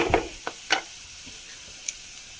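Crushed spices are stirred into a frying pan over a low flame, giving a soft steady sizzle with a few brief scraping stirs near the start and a faint clink later on.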